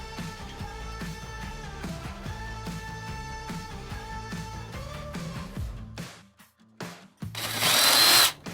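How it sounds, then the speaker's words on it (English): A power drill bores out the slides for a van shower install, running loud and steady for several seconds before stopping, then a brief sharp high-pitched burst of drilling near the end. "we just had to drill out our slides to accommodate a bigger screw"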